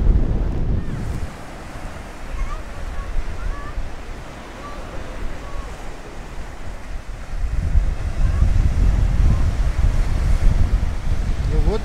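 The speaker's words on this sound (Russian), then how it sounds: "вот такой вид у нас осеннего нашего моря Балтийского" Autumn waves of the Baltic Sea near Kaliningrad wash ashore under gusty wind buffeting the microphone, a continuous broad roar that swells louder in the second half, with no one talking.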